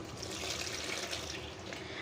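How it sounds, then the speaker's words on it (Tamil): Steady broadband rush of water being poured into a pot, continuous and fairly loud throughout with no voices. "இப்போ தண்ணி ஊற்றிக்கலாம்"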